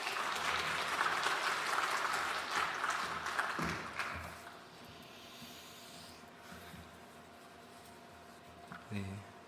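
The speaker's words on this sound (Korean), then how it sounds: "우리 박수로 함께 인사 나누겠습니다." Church congregation clapping at a Friday prayer service, lively applause for the first few seconds that fades into quiet room tone, with a brief rustle near the end.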